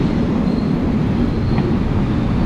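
A long Thai passenger train, number 367 with many cars coupled on, rumbles into Makkasan railway station in a steady, loud, continuous low roar of wheels on rails with no distinct clacks.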